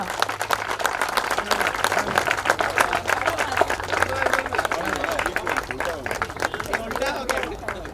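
Audience applause at an animal welfare event where an animal care van is donated, sustained clapping from a crowd mixed with cheering and chatter over a steady background hum.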